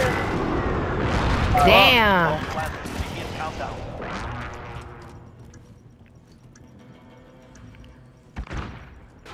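Airstrike explosions in Call of Duty: Modern Warfare, a loud cluster of blasts and crackling gunfire that fades into rumbling, then one more sharp boom near the end, with a player speaking.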